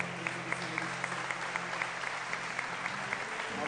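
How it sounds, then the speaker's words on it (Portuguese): Church congregation applauding steadily, a dense patter of many hands at moderate distance, with faint background murmur and an organ-like tone sustained underneath. "Dá um aplauso ao Senhor,"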